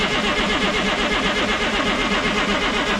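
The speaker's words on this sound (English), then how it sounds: "It's got fuel at the filter, so I just give her some cranks and see what happens." A cheap used semi truck diesel engine cranks over steadily on the starter, a loud, continuous, rhythmic churning without catching, close up and without talk.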